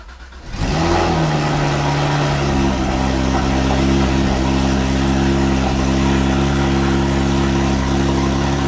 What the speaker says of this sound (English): Let's hear the cold start of both these cars.